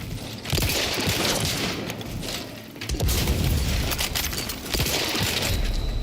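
Rapid bursts of gunfire from a malfunctioning gun in The Outer Worlds 2, loud and close, with sharp shots and crackling repeated across the clip and no talking.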